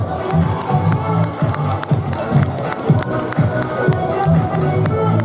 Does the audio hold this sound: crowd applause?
yes